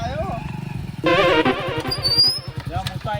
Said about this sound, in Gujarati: બાઈક આવતું લાગે